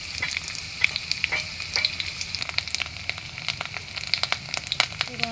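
Three dry bay leaves and chopped ginger sizzle in hot oil with a bright crackle and a string of sharp spits and pops over a steady frying hiss.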